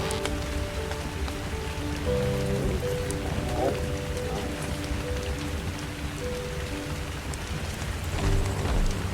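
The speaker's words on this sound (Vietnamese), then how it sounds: "Trời lại mưa tầm tã chắn hết cả tầm nhìn." Torrential rain at night in the survival game Ark: Survival drums steadily and loudly across the whole stretch, with faint tonal game sounds surfacing briefly beneath the downpour.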